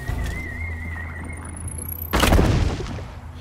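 A loud, sudden blast in the sci-fi game Journey to the Savage Planet, a booming burst with a rumbling tail that cuts in after a stretch of whistling, tonal game sounds.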